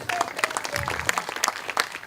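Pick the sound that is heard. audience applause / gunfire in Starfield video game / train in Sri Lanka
audience applause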